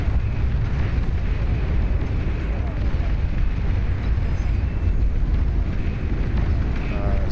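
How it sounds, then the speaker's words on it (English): Continuous heavy rumbling explosions from a capital ship bombardment in the Beyond All Reason strategy game, a dense, loud roar of blasts that runs unbroken throughout. "Why on good green heavens is there a capital ship bombarding me from right here?"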